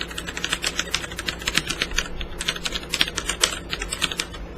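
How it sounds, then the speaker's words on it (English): Rapid, crisp clacking from a compact Das Keyboard 4C Professional mechanical keyboard being typed on continuously, close and fairly loud with no talking. "we're going to do the sound test right now"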